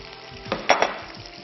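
A last batch of chicken fries in hot oil, giving a steady soft sizzle with a couple of brief louder crackles near the middle, heard close and without talk.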